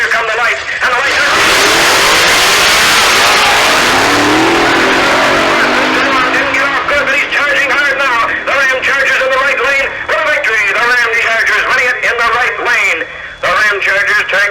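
Dodge drag cars, a blown Hemi against the Ramchargers, launch at Ubly Dragway in 1966 with loud roaring engines that rise and pull away, while an announcer talks over the PA throughout.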